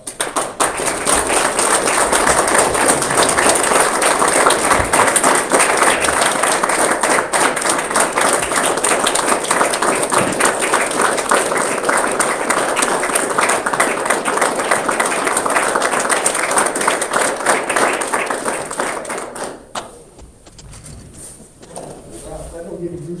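A town board of commissioners meeting audience gives a long, loud, sustained round of clapping for three veterans, dense and steady for about twenty seconds before dropping off into quieter room noise.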